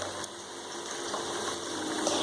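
Tamarind water pours steadily into a pot of cooking sundakkai kulambu, a continuous close liquid rush lasting the whole moment without talk.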